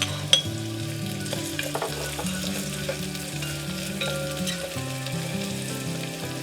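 Shallot sizzles in olive oil in a rice pot with a steady crackling fry and occasional stirring, close and continuous under a faint background hum.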